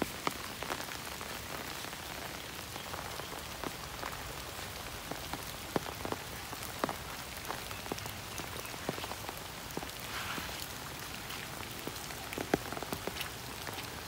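Steady, heavy rain pours down continuously, with scattered droplets pattering close by on a surface throughout.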